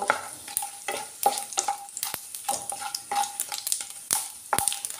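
Black cumin, mustard seeds and dried chillies fry in hot oil with a steady close crackling sizzle, broken by repeated scraping stirs and light clicks of a spoon against the pan.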